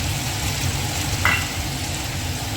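Onion paste with ginger, garlic and green chilli paste frying in ghee in a pan, giving a steady, dense sizzle throughout with a brief stirring scrape near the middle.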